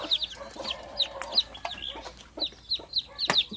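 Native chicks cheep in a run of short, high, thin peeps, some doubled, scattered across the moment at close range with a few louder chirps near the end; no one speaks.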